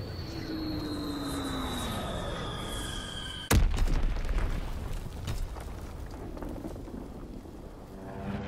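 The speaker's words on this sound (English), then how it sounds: "Fighter aircraft approaching target." Fighter aircraft in a WW2 sniping video game, a descending engine whine that ends in a sudden loud boom followed by a rumbling, decaying roar.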